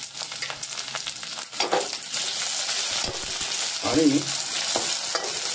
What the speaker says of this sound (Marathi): त्याच्यामध्ये आपण हे टोमॅटो घालायचे आहेत